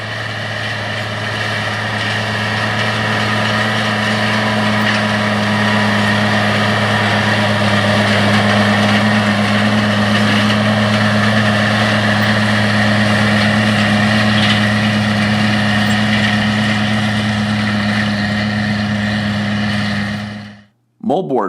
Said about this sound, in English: Oliver 1650 tractor pulling an Oliver 252 disc, cutting up the stalks ahead of the plow